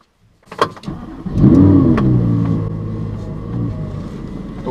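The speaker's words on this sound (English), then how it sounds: "Always sounds good on a cold start" Audi R8 V10 Plus engine firing up from cold: a brief starter whir, then a loud catch and rev flare that settles into a steady, deep, rumbling high idle, close by and with no talking.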